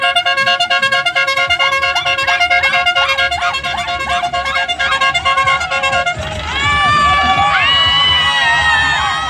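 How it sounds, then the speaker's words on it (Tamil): Repeated tooting from a jeep horn on a ride at Vagamon, with bursts of honking over loud, excited shouting and cheering from a crowd of passengers. The horn runs steadily for about six seconds before the voices take over. "ஹார்ன் அடிக்க சொல்லுங்க ஹார்ன் அடிங்க ஹார்ன் அடிங்க"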